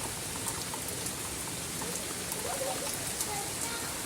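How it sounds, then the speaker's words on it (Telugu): Heavy rain falling in Bangalore, a steady dense hiss of drops hitting surfaces close by, continuous and even throughout, with a voice speaking over it. "ఫుల్ వర్షం పడుతుందిరా బాబోయ్"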